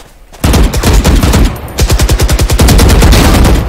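Rapid bursts of gunfire from the video game Valorant, loud and close, with sharp repeated shots in quick automatic rhythm, a brief pause, then another sustained volley.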